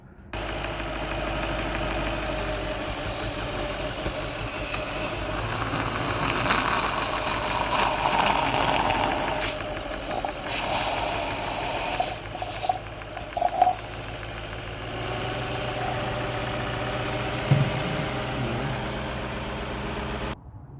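A 4.2 V8 in an Audi A6 C6 idles steadily nearby during a Sea Foam intake treatment, a continuous low engine drone lasting about twenty seconds. Occasional clicks and rattles sound over it, and no one speaks.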